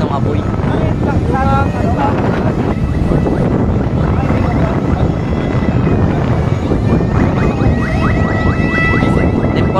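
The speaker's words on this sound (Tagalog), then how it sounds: "Grabe po yung hangin, sobrang lakas." Strong wind roaring steadily and loudly across the microphone at a large fire in Aroma, Tondo, Manila, with a voice calling out over the constant buffeting.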